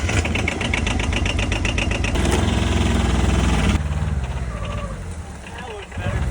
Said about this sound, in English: Love this diesel. However, I would say this is not the best hunting rig with how loud she is.